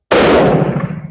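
A single loud, close gunshot from an 8x56R Kropatschek rifle fire-forming .348 Winchester brass, a sharp blast followed by a short, fading ring.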